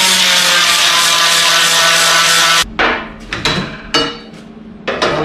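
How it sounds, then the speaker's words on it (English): An angle grinder cuts off a piece of metal while making a custom bullbar: a loud, steady, high-pitched grind with a hum under it, then it stops abruptly into a few sharp clanks and knocks of metal. "I'm just going to grind this bit off so I've got something to weld to."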